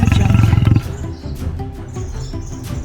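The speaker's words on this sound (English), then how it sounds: "lion" A lion roars, loud and close, with a pulsing low rumble that fades into a busier wild background of birds chirping and other animal calls.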